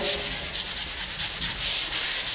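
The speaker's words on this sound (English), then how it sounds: "Now you blend it in with the sanding. My little paddle sander." Paddle sander scrubs back and forth across a drywall patch, a loud steady hissing rasp with rhythmic strokes and no voices.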